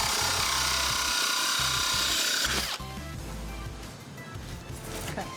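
Power drill fitted with a hole saw bit grinding into ceramic tile, a loud harsh scraping whine for two and a half seconds, then a lower rough rumble as the cut continues.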